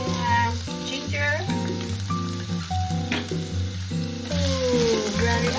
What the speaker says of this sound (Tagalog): Stir-fry na natin ang ating ingredients. Onion, garlic, lahat na sabay-sabay na.